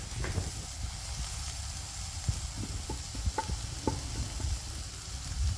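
Masala powders, onions and ginger-garlic paste sizzle in a pan for Bengali prawn malai curry while a spoon stirs them, adding soft scraping clicks over a continuous close frying hiss.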